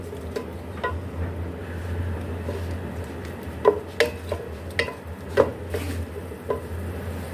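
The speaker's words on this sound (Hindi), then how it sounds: "अब इसमें हम टमाटर डाल देंगे और इसको हम अच्छे से मिक्स कर लेंगे।" Tomatoes are stirred into a tinda and potato curry in a pan, giving soft scraping and sharp clinks of a spoon against the pan over a low, steady background hum.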